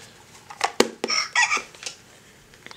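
An Android ADK accessory board running on Arduino gives off a chicken-like sound, a handful of sharp, squawky bursts that come near and fairly loud, with no talking over them.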